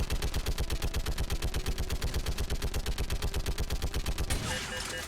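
Sustained automatic gunfire in Mass Effect 3 hammers out a fast, steady rhythm of loud close shots for over four seconds, then cuts off abruptly into a brief burst of noise.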